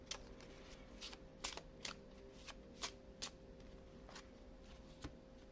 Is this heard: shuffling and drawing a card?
yes